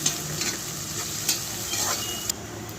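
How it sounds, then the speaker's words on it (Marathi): Tomatoes frying in oil with a little salt for a spiced cauliflower and potato dish, giving a steady broadband sizzle with a few brief stirring scrapes and clinks, close and moderately quiet. "ते चांगले आता आपण फ्राय करून घेऊ तेलामध्ये"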